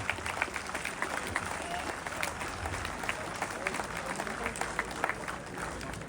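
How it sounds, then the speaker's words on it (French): A crowd applauds at a team presentation for the French enduro championship in Langeac, with steady, fairly distant clapping mixed with crowd noise and a voice speaking over it. "Un tonnerre d'applaudissements s'il vous plaît."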